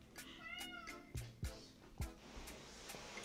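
A cat meows several times in a row, short rising cries that are close and clear, followed by a few softer bumps and thumps in a quiet room.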